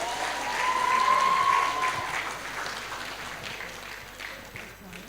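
An audience at a knowledge exchange programme applauds as a moderator is welcomed to the stage, steady clapping that swells for the first couple of seconds and then gradually thins out.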